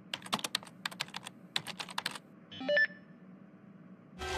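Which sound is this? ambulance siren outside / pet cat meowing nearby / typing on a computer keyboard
typing on a computer keyboard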